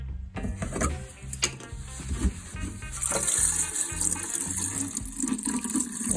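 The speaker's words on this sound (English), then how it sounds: "I'm just going to put some water in here" Water poured into a car's container during rally car repair work, splashing and gushing up close with some stirring clatter, continuous for several seconds without speech.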